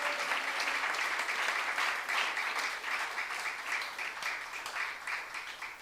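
A church youth-service congregation claps together in a full, even burst of applause that holds steady for several seconds.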